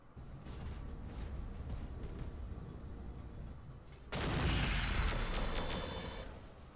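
Mech weapons fire in the Roguetech video game, heard as a rolling rumble of distant gunfire and blasts, then a sudden louder burst of heavy weapon fire that booms and slowly fades.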